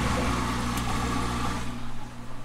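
A Sunsun 704B aquarium canister filter pump, due for cleaning after a year, runs with a steady, close electric motor hum and low tonal buzz that dips and turns slightly uneven near the end as air works through.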